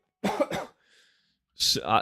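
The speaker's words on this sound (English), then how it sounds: "I do have a annoying cough though" A person coughs in two quick harsh bursts, followed by a faint pause and then another loud cough or throat-clearing, close to the mic.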